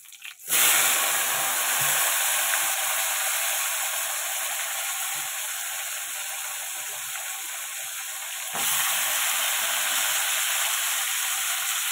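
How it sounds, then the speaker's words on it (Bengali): Beans, eggplant and potato fry in a pan with a steady, loud sizzling hiss that runs throughout, swelling slightly near the end as the vegetables shift. "তো সবজিগুলো আগে ভালো করে ভেজে নেব।"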